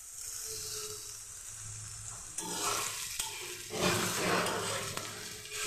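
Onion fries in a pan as grated ginger is added for a spiced chickpea curry. A steady loud sizzle swells with bursts of stirring.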